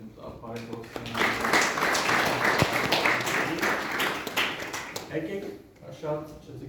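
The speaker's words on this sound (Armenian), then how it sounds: "Շարինե Փանոսյանին եմ ուզում ծափահարենք եկեք շատ" An audience applauds at a film series premiere in Armenia, a dense wash of clapping that swells for several seconds under a man's speech and then fades.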